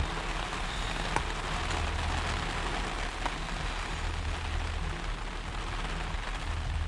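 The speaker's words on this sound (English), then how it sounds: "I'm working in the rain." Heavy rain pouring down outside a guitar-building workshop, a constant dense hiss of drops on surfaces with a low rumble underneath, steady and loud throughout with no talking.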